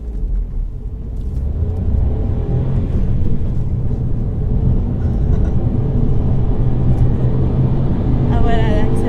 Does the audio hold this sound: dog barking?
no